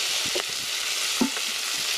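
Food sizzles steadily in hot oil in a cast iron pan over a campfire, a continuous hiss with a few soft scraping knocks near the pan, no voices.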